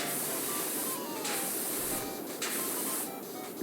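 Pressure washer spraying water onto rusty surfaces in PowerWash Simulator, a steady broadband hiss running throughout with slight surges and dips, close and loud with no talk.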